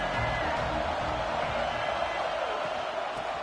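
Roaring football stadium crowd during an Ohio State game, a dense, steady wall of noise held at full level throughout without a break.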